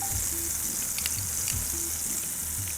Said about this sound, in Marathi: आलं लसणाचे तुकडे घेतलेत आपण ते फोडणीला द्यायचे